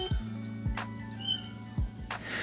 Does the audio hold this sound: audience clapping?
no